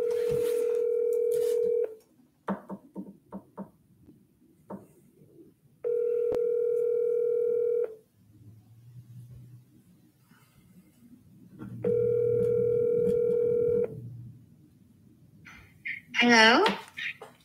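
Outgoing call from a cell phone: three long, loud ringback tones about two seconds each, spaced by quiet gaps with faint background rumble, followed by a brief voice at the end.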